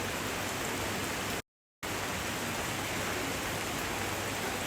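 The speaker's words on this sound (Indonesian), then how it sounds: "saat ini masih hujan deras, hujan melanda di Bangkile-Kila" Heavy rain pouring in Bangkile-Kila, North Toraja, a constant loud hiss of downpour with a brief silent cut partway through, and no talking.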